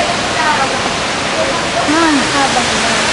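A waterfall roars as a loud, constant rush of falling water close by, with voices talking faintly over it.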